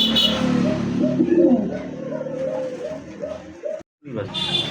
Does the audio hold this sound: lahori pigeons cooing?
yes